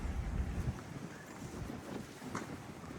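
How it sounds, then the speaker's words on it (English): Steady wind buffets the microphone on the open back deck of the Fred Olsen cruise ship Bolette at sea, a continuous loud rumbling roar with no talking. "Bit breezy this morning."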